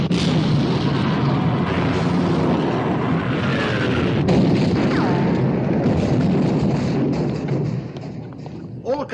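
Heavy naval guns firing on the battleship Bismarck in a 1960 war film battle scene, a dense rumbling barrage of booms and thuds that stays loud throughout.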